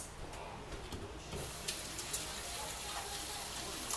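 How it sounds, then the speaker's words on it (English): Greasy hands are rinsed under running water from a kitchen tap, a steady close hiss and splatter that continues throughout with a few small knocks. "I'm going to rinse them off before I roll this."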